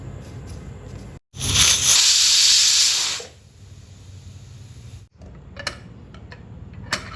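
A pressure cooker of dal kichadi vents its steam in one loud, sharp hiss that lasts nearly two seconds. It then cuts off to a quiet kitchen background with a few faint clicks.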